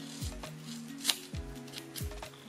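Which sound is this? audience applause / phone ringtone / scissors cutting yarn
scissors cutting yarn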